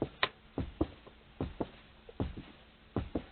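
Slow heel-then-toe strokes on a bass drum pedal: soft paired thumps repeating at an even, unhurried pace, close and fairly quiet, with no talking.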